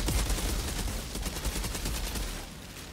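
A rifle fires in continuous rapid bursts in the Outriders video game, loud dense gunfire rattling steadily for the whole stretch.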